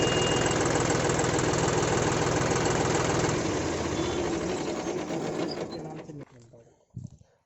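A John Deere 5210 50hp 4WD diesel tractor engine idles with a steady, rapid knocking chug, loud and close, before it slows and cuts out, leaving a few faint clicks.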